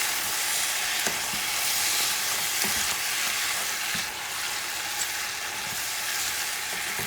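Goat stew ingredients sizzle steadily in a pan over medium heat while being stirred, with occasional soft scraping taps from the utensil, close and continuous, no voices.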